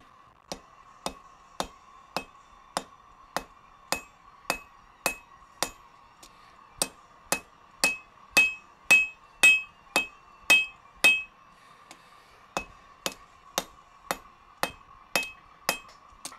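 Hot metal is hammered on an anvil in a run of sharp, evenly spaced ringing blows, about two per second, with a brief pause and some louder strikes near the middle.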